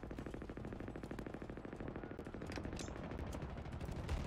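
Rapid automatic gunfire from Halo Infinite during a Big Team Battle Slayer match on the Breaker map, a loud, steady stream of tightly spaced shots running the whole time with no one speaking.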